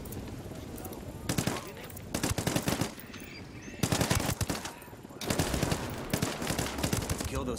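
Rapid bursts of submachine gun fire in the open-world shooter Ghost Recon Wildlands, several loud rattling volleys separated by short pauses, with game ambience between them.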